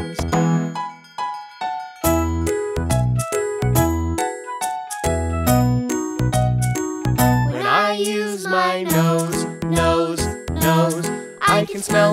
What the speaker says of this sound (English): I can hear the wind chimes